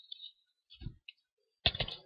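A few sparse clicks of a computer keyboard as a command is typed at a command-line prompt, close and quiet, separated by short silences.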